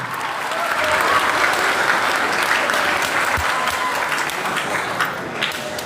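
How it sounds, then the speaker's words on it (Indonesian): Sustained applause from a school audience at a Christian vocational school orientation worship service, a steady dense patter of many hands clapping together for several seconds, filling the room and fading slightly at the end. "Iya, tepuk tangan."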